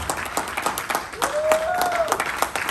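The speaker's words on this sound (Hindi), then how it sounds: "जोरदार तालियों के साथ स्वागत करें" A crowd at a stage event applauds achievers walking on, steady clapping running beneath a voice speaking over a microphone.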